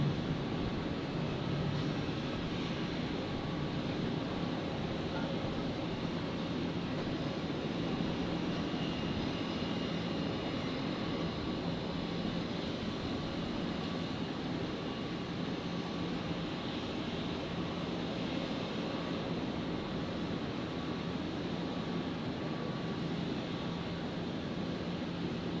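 A Qatar Airways Boeing 777 departs runway 01 right at Brisbane Airport. The jet engines give a sustained, distant roar that holds steady throughout, with no talking.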